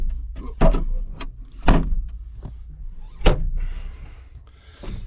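John Deere machine cab door with a poor factory fit, several sharp, close thuds and clunks as the door is opened and shut, over a low engine rumble.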